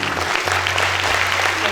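Loud, dense audience applause fills a hall at a school felicitation day awards ceremony, a continuous wash of many hands clapping over a low steady hum.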